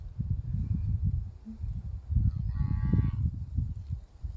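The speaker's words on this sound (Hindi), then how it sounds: "ये देखिए हरे चारे के लिए बोल रही है पाडी" A buffalo calf moos repeatedly for green fodder on a farm, low drawn-out calls close by, with a brief higher sound partway through.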